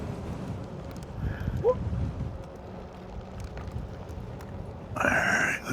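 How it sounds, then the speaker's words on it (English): Steady wind buffeting a microphone outdoors on a gusty day, a low rumbling roar that runs throughout and swells louder near the end. "It is fairly windy today."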